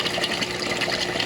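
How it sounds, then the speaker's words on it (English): A small 25 watt water pump runs in a koi pond with a steady, close, watery hum and a bubbling churn, and no one speaks. "This is just 25 watts water pump."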